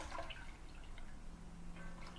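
A reborn doll kit is rinsed under running water, giving a continuous quiet splashing and dripping with no speech.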